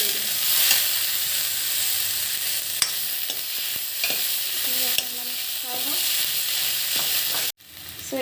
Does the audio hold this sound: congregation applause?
no